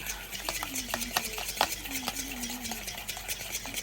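Two egg yolks for a cassava cake topping are beaten in a bowl, heard as quick close rhythmic whisking and clicking strokes against the bowl.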